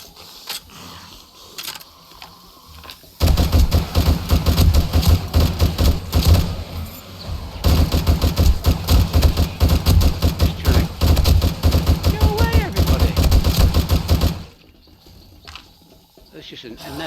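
Rapid sustained gunfire in the zombie survival game 7 Days To Die, dense loud bursts lasting about eleven seconds before cutting back to a quieter background.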